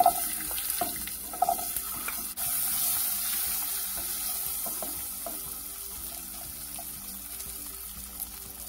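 Garlic frying in hot oil in a home kitchen while cooking a garlic tamarind curry, giving a steady close sizzle with small pops and stirring clatter throughout, no talking.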